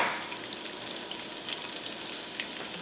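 Crispy bacon frying in a pot for a one-pot meal, a soft, continuous sizzle with scattered fine pops and crackles, close by and steady, with no voices.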